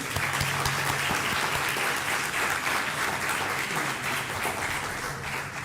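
A room full of people applauds an employee honored for 40 years of service, with steady, dense clapping that holds at an even level throughout before easing slightly at the end.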